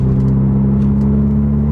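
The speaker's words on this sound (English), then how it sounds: "Oh my, this car is loud" A Golf R fitted with an AWE SwitchPath exhaust idling in eco mode with the valves closed, giving a steady, loud, deep droning hum close by, with no voices.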